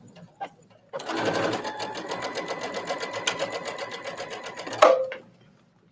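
A Brother sewing machine stitches fabric in one close, steady run of rapid mechanical clatter lasting about four seconds, followed by a single sharp clunk as it stops.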